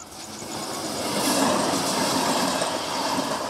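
A train runs along a railway line near a home, a loud, close, continuous rumble and roar with faint rhythmic wheel clatter and a brief high squeal, steady throughout with no talk.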